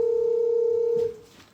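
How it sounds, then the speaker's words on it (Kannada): A steady electronic telephone tone played loudly through a loudspeaker during a call, holding for about a second before cutting off. "ಇನ್ನೊಂದು ಫೋನ್ ಬರ್ತದೆ"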